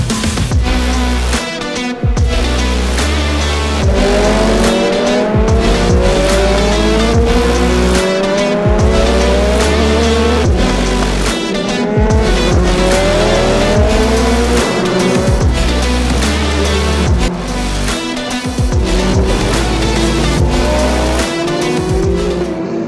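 LMP2 race cars roar at speed with high engine revs climbing and shifting through repeated gear changes, loud and close throughout with no talk.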